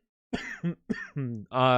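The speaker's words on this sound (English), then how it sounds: "Sorry, I got a cough." A man coughs several times in quick succession, short close rough bursts with brief gaps between them, ending in a longer throaty one.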